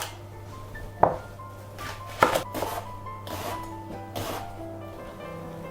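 A knife slices leek on a cutting board in a home kitchen, a few separate cuts landing as clear thuds with crisp crunches about a second apart, while a steady low hum from the stove runs underneath.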